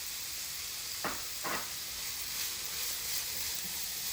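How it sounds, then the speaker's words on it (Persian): Onions, carrots and minced garlic fry in a pan with a steady, close sizzling hiss, broken by two short scraping bursts of stirring near the start. "پیاز و هویج و سیر رو سرخ میکنم."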